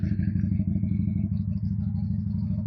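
A 2022 WMoto V16 250cc cruiser motorcycle engine, stock except for an aftermarket exhaust, idles with a steady low, throbbing rumble, close by and continuous, no revving.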